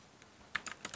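A few quick keystrokes tap on a computer keyboard while a resume is being edited, faint and close, clustered in the second half after a near-silent start.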